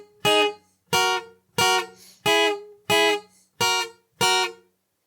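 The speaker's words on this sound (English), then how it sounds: "the offbeat pattern B will sound like this." An acoustic guitar plays offbeat strumming pattern B for the worship song Lechu Neranena L'Adonai: seven crisp, evenly spaced strums ring out close and clear, each decaying before the next, with no talking.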